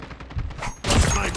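Sniper gunfire in the mobile shooter COD Mobile: a rapid burst of loud, sharp shots, with a heavier blast near the end, close and dense, with no talk.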